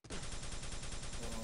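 Rapid continuous burst of plasma gun fire in a first-person shooter match, a dense machine-like stream of loud, evenly spaced shots lasting over a second with no talk.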